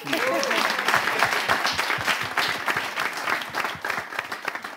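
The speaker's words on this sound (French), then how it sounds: "Applaudissez la dame." A studio audience at a televised semi-final claps in a dense, lively burst that holds for several seconds and then begins to thin, with voices mixed into the clapping.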